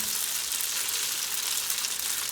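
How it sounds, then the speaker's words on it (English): Butter melts and sizzles in a hot pan with pasta, a steady close hiss of frying with no pauses. "Gonna melt that butter with the pasta in there."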